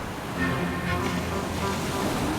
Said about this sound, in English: The devilish waves have lasted for a week, putting the task on hold.